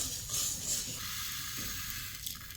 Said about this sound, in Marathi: आता मेथी थोडी लालसर होईपर्यंत भाजून घ्यायची